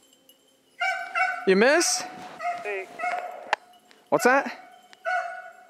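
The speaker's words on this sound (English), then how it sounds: "the dogs are coming in on 2 different tracks" Beagles on a rabbit hunt in Maine bay and yelp in repeated, drawn-out howls from close to mid distance, between brief spoken remarks from the hunters.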